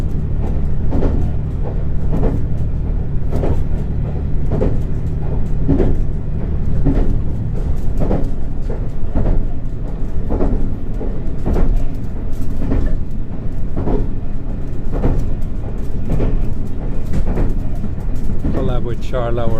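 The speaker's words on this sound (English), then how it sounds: "this is actually a hybrid electric diesel train" Resort Shirakami hybrid electric-diesel train running through scenic Japan, a steady low rumble with rhythmic clacks from the rails, heard from inside the carriage while people talk over it throughout.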